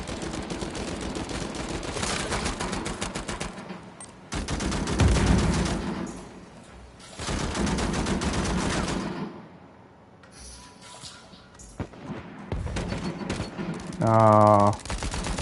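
Rapid gunfire from the video game Uncharted comes in loud bursts separated by quieter gaps, with game effects and a brief tonal sound near the end.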